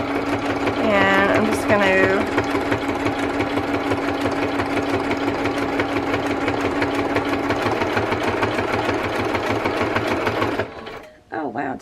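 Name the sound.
sewing machine stitching a pocket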